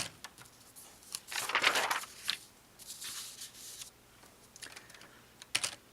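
Code being typed on a computer keyboard in a classroom setting, with quick bursts of soft close-up key clicks, bunched into flurries with short pauses between them.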